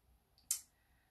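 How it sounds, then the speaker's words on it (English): A single sharp mouse click on a go-live button for a YouTube livestream, brief and close, preceded by a faint tick, in an otherwise quiet room. "I'm clicking the go live button on YouTube."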